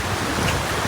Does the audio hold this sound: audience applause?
no